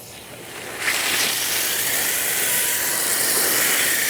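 Water pours steadily from a watering can or hose onto the soil around a small, newly planted bare root fruit tree, a continuous close hiss that swells in after a quiet start and holds for several seconds.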